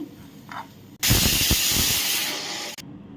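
Urad dal and chana dal hit hot oil with a sudden loud hiss that holds for about two seconds and then stops, no talking.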